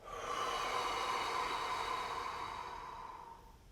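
A long, deep exhale after a held breath, a soft, airy whoosh that swells quickly and then fades gradually, faint and close.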